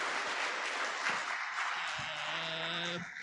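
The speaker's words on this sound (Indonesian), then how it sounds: "Berikan tepuk tangan dulu untuk Romo Surgo." Audience applause at a church diocese gathering in Surabaya, a sustained, dense wash of clapping from a large crowd with faint voices underneath, fading slightly at the end.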